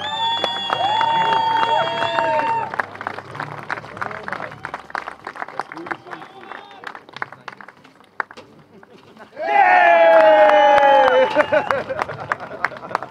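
A speedway event crowd claps and cheers at the Master of Speedway 2023 in Moorwinkelsdamm, with loud tonal bursts at the start and again near the end, a quieter stretch of scattered claps between, and announcer talk mixed in.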